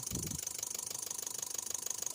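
A 2014 Daihatsu Terios engine with a crank-sensor fault that makes it start and then die, idling quietly with an even, rapid pulsing beat after a brief low thump at the start.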